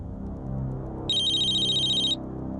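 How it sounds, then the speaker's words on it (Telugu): A telephone rings once with a bright electronic trill lasting about a second, loud and close, following a quiet indoor background. "ఫోన్"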